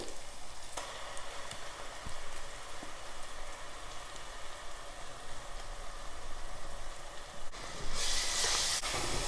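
Garlic paste and onions sauté in a hot pan, giving a steady, even sizzle and hiss that runs throughout with no talking.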